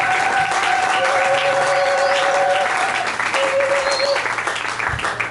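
Church congregation applauding during a French-language service, dense continuous clapping filling the room for several seconds, with a sustained musical tone and faint voices underneath.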